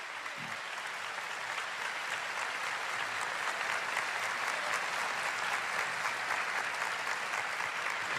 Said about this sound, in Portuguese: Pode bater palmas para a Igreja de Deus